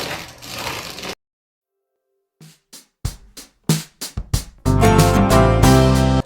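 A hand-cranked Back to Basics grain mill grinds grain into flour. A burst of grinding is followed by silence, then a few short cranking bursts and a sustained loud, gritty grinding run.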